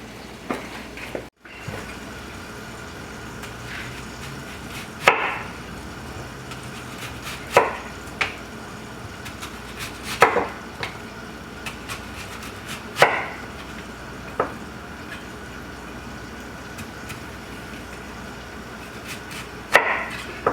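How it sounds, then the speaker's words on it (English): A knife slicing through an onion on a cutting board for pan-fried cabbage, producing sharp, isolated thunks spaced a few seconds apart over a low steady background, close and clear with no talking. "I'm slicing my onion"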